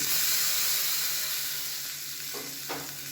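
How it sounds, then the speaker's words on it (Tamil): Mustard seeds, urad dal and curry leaves sizzle in hot oil for a tempering, a bright, steady hiss of frying close by with a couple of faint pops near the end. "கடுகு உளுந்து கருவேப்பிலை போட்டு தாளிச்சிக்கேன்."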